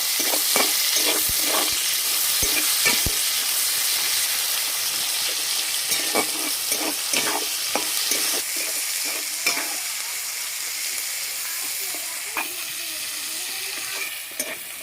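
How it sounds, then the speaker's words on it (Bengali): Chopped onions and bay leaves fry in mustard oil with a steady sizzle, punctuated by repeated clicks and scrapes of a spoon stirring against the pan. "পেঁয়াজগুলোকে তেলের সাথে কিছুক্ষণ ভেজে নেব।"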